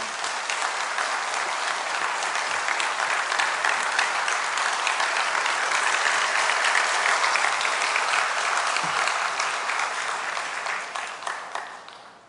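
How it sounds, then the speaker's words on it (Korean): A church congregation applauds to welcome the pastor to the pulpit, loud sustained clapping from a full room lasting about eleven seconds before tapering off. "우리 목사님 나오실 때 박수로 환영하겠습니다"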